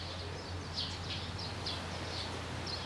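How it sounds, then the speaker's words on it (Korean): Small birds chirp in quick repeated bursts outdoors beside a restaurant on Jeju Island, with the sea and Seongsan Ilchulbong in view, over a steady low hum and faint background noise. "새소리가 지금 짹짹짹짹짹."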